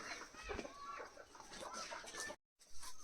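Chickens cluck in scattered bursts nearby over a busy background, then a brief dropout of silence before the clucking resumes.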